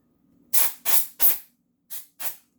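Five short bursts from an aerosol cleaning spray can sprayed lightly onto a Lego castle, three in quick succession, a brief pause, then two more, each a sharp airy hiss close by.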